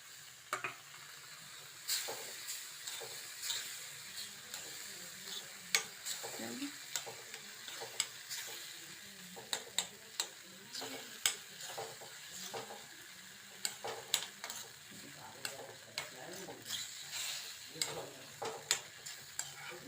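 Ridge gourd pieces stirred through melted jaggery in a pan, with repeated scraping taps of a spoon over a soft sizzle, close and fairly quiet, no talking.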